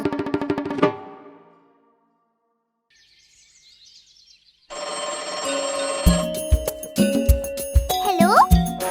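A telephone rings briefly at the start of a children's animated Hindi rhyme cartoon, a bright tone lasting about a second. A quiet pause follows, then cheerful music and sound effects.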